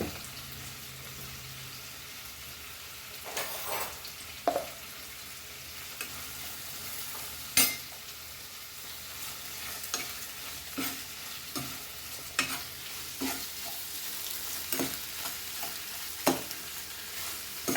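Onions with ginger-garlic paste and curry leaves fry in a pan, a low continuous sizzle broken by occasional sharp scrapes and clinks of stirring.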